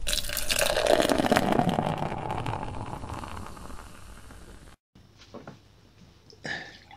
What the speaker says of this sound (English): Let's get pouring.